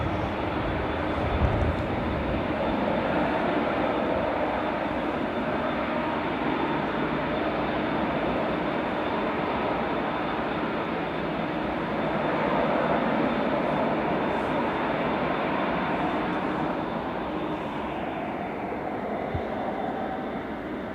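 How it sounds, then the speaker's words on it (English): A Ryanair Boeing 737 MAX 8200 from Lisbon at Manchester Airport gives a steady, loud broadband jet roar that holds evenly for about twenty seconds, tapering slightly near the end, with no talking. "This is the Ryanair from Lisbon 737 MAX 8200"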